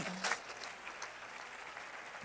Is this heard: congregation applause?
yes